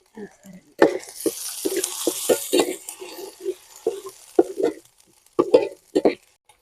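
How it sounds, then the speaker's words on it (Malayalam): Oil sizzles and crackles steadily as onions sauté in a pan toward golden brown, while a voice speaks intermittently over the cooking noise. "ഉള്ളി നല്ലപോലെ ഒരു ഗോൾഡൻ കളർ ആവുന്ന വരെ നമുക്ക് വഴറ്റിയെടുക്കാം"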